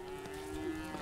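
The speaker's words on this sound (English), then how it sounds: "This is the rear of the caravan of cows." Cattle on a ranch cattle drive in Montana low steadily in a sustained, droning moo that holds for most of a second, fairly close and alone without talk.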